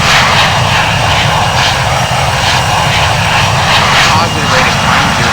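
Twin rear-mounted jet engines of a Boeing 717-200 roar at takeoff thrust in Infinite Flight, a loud steady rushing drone that fills the cabin throughout.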